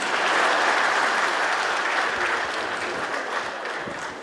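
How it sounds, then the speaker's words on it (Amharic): Women applaud in a hall during a Dashen Bank women's empowerment panel event. The clapping is even and sustained, fairly close and full, and tapers gently toward the end with no voices over it. "አጨብጭቡ ሴቶች"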